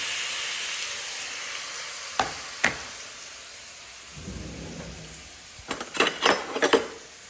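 Ghee sizzles steadily in a pan as fruit is added, a soft frying hiss under a few sharp clinks of a spoon against the pan and a brief low rumble as the fruit drops in, with no talking.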